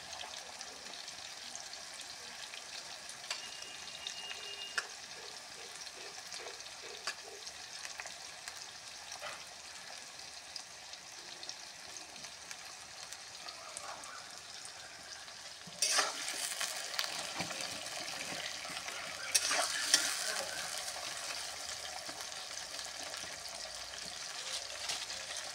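Potatoes frying in a pan for a traditional Bengali dish, a soft steady sizzle with occasional stirring scrapes that grows louder and brighter toward the end.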